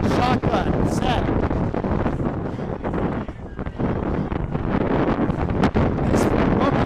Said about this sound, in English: Just showing the strong gusts of wind.